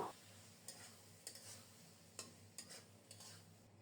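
Loitta fish cooking in a spiced masala in a pan, with a faint, continuous sizzle under soft, occasional stirring scrapes and clinks, all very quiet.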